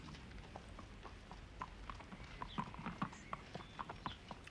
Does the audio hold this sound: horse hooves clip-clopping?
yes